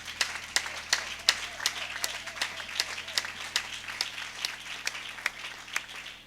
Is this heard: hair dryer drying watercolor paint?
no